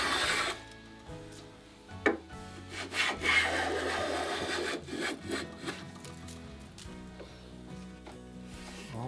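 A hand plane shaves a wooden dory plank down toward a knife line, a run of close rasping strokes with short gaps between passes.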